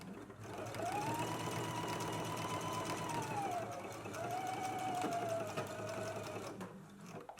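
A sewing machine stitching jacket collar seam allowances runs in two steady, whirring bursts with a brief pause between them, close and continuous.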